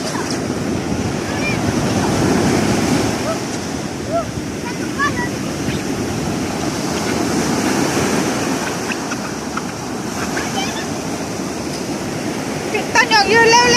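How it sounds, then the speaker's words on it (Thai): Sea waves washing onto a beach in Songkhla, a loud continuous rush of surf with wind buffeting the microphone, children's voices and chatter faintly mixed in. "ต้นหยกยืนเร็วน้ำมาแล้ว"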